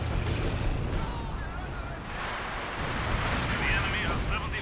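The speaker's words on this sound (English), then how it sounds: "Artillery barrage going down there." Artillery barrage in the strategy game Company of Heroes 2 during a 2v2 match, a dense, continuous rumble of booming impacts and crackling blasts layered under game noise.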